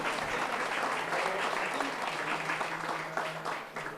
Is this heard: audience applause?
yes